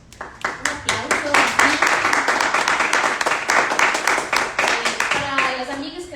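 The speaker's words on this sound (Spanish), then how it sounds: "Un aplauso." Audience applause at a Spanish-language feminist gathering, a steady burst of many hands clapping close and loud for several seconds, tapering slightly toward the end with faint voices underneath.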